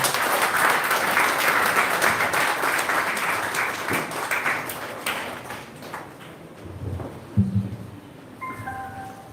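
Audience applause at a graduation ceremony, a broad, steady patter of many hands clapping that thins out and fades over the last few seconds, followed by a few scattered claps and small knocks.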